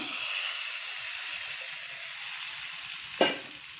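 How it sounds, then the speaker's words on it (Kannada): Spices tempered in hot oil for keerai sambar give off a steady, close sizzle and frying hiss, with a brief louder splutter near the end. "ಇವಾಗ ಒಗ್ಗರಣೆ ಹಾಕಿ ಮಿಕ್ಸ್ ಮಾಡೋಣ"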